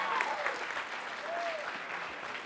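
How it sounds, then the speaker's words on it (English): Audience applauding at the grand finale of MANTHAN-2023, a steady wash of clapping from a sizable crowd that holds even for the full stretch, with faint voices threaded through it. "Can we have a round of applause for MANTHAN-2023?"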